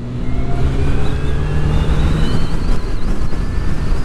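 A 2024 BMW CE-04 electric scooter pulls away at full throttle alongside an MV Agusta motorcycle, its rising electric whine and faint tones carried under steady, loud wind rush across the whole stretch.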